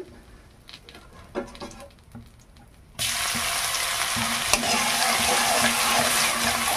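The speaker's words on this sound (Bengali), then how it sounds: "রসুনটাকে একটু প্রথমে ভেজে নেব" Crushed garlic goes into hot oil with dried chillies; after a few quiet utensil taps a loud, steady sizzle bursts in and continues close by, with a single clink partway through.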